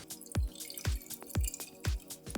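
Water poured into the reservoir of a Tovala smart oven, a series of regular drips and splashes landing in quick rhythm, close and clear with no talking.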